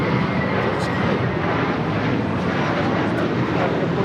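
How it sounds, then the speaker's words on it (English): An Air France Boeing 777 airliner arriving from Paris produces a loud, steady jet roar that stays even throughout. "It's Air France 777 coming in from Paris"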